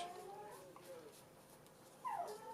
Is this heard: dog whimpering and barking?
yes